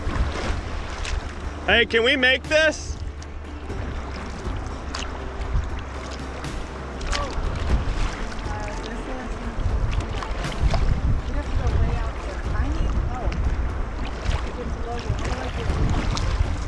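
Canoe paddling through choppy, converging waves off Isle Royale: steady water wash and wind buffeting, with paddle splashes and people talking throughout.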